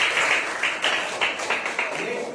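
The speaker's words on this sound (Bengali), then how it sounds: "একদম জন্য জোরে হাততালি" A primary school crowd bursts into loud applause during a quiz at a West Bengal Day celebration, with steady clapping in uneven surges across the whole moment and voices mixed in.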